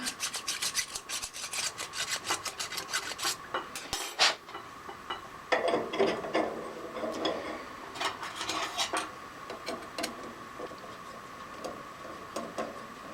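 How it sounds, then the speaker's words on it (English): Steady scraping of a chainsaw file removing a burr from metal, repeated rasping strokes at a close distance, with light clinks between passes and no voices. "See if we can get it out with a chainsaw file."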